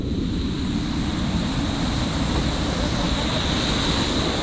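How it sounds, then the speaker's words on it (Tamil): A steady, loud roar of monsoon water gushing at Vellamalai tunnel near Valparai, a dense continuous wash of rushing flow without pauses or speech. "தண்ணி இன்னும் பூர்ஸாக போயிட்டுருக்கு பாருங்களேன்."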